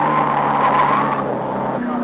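Racing cars skid and crash at the 1969 Hardie-Ferodo 500 at Bathurst, tires squealing loudly in a short, continuous burst with engine noise underneath, while a voice talks over it.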